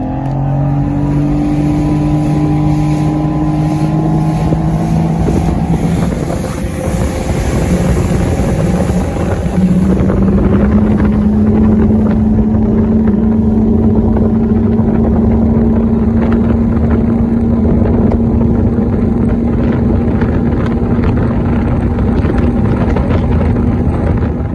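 A motorboat engine roars close by, its pitch climbing as the boat accelerates hard onto plane on a lake, then settling into a loud steady drone with wind buffeting the microphone.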